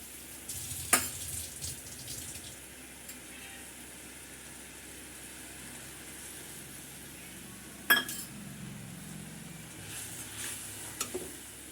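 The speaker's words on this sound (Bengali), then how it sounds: "এই যে মশলাটা ফুটে গেছে, তেল ছাড়া ছাড়া হয়ে গেছে" A spice mixture bubbling and frying in oil for a pointed-gourd curry, a low steady sizzle close by, broken twice by sharp clinks of a utensil against the pan.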